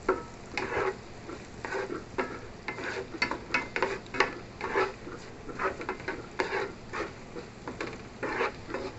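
Butter melting over medium heat in a pan with seasonings, a soft sizzle beneath repeated scraping and stirring strokes, close and moderately loud in an uneven rhythm.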